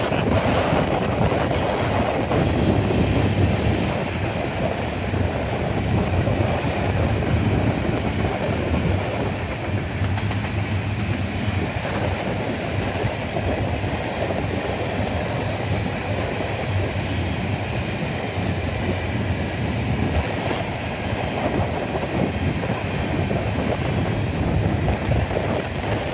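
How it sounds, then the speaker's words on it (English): Freight train pulled by three locomotives passes close by on a Norfolk Southern or CSX line near Oak Harbor, a steady loud rumble of rolling cars and wheel clatter continuing throughout with some wind noise. "Not too often you see 3 locomotives on a lot of these lines around here on the NS or the CSX."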